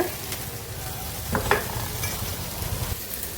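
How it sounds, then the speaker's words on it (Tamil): Tomatoes sauté in a pan with a steady low sizzle and frying crackle, punctuated by a couple of brief utensil scrapes, close up and moderately quiet. "இந்த தக்காளி நல்லா வதங்கி வரட்டும்."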